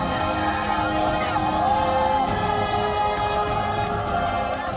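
Thousands of protesters gather outside the house of Sri Lanka's president Gotabaya Rajapaksa. A dense, loud, continuous crowd roar with babble and some shouting runs throughout, and a narrating voice talks over it.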